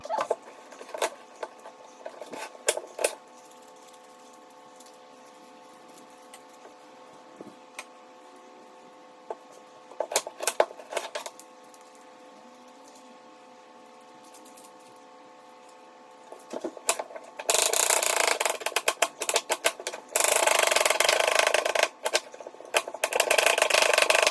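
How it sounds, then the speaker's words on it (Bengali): Knife finely chopping onions for a tuna sandwich, sped up, giving rapid ticking taps in scattered bursts over a faint hum, ending in a louder stretch of dense clatter. "ফার্স্টে একটু পেঁয়াজগুলোরে কুচি কুচি কুচি কুচি কুচি করে করে কাটতে হবে"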